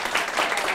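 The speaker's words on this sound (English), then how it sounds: "Round of applause." Audience applause at a lunchtime event, a dense burst of many hands clapping at once, steady and fairly loud for under a second.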